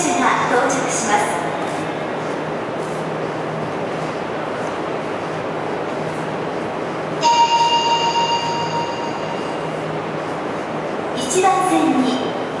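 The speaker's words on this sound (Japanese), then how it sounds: "1番線に門真南行きの最終電車が到着します。" An Osaka Metro Nagahori Tsurumi-ryokuchi Line 70 series, the last train of the night, arrives at Taisho station, its low rumble running steadily under platform announcements with brief tonal chimes partway through and again near the end.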